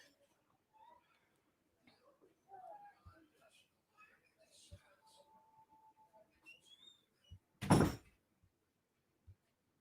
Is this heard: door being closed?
yes